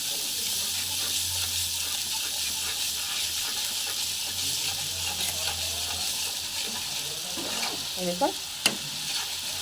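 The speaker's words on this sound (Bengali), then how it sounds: "ভালো করে নেড়ে চেড়ে নিচ্ছি, তারপরে দিয়ে দেবো জল" Sattu mixture frying and being stirred in a pan, with a steady close sizzle and hiss and scraping near the end; a brief voice speaks.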